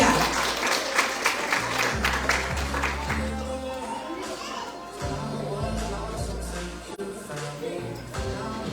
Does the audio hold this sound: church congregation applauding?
yes